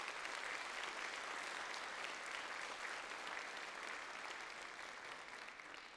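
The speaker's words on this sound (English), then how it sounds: "If I could still have a round of applause for these three wonderful individuals." Sustained round of applause from an audience at a high school senior awards ceremony, a steady dense clapping that fills the room throughout and eases off slightly toward the end.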